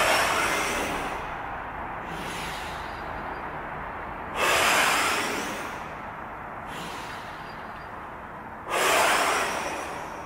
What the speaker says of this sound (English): I want you to over-exaggerate your breathing,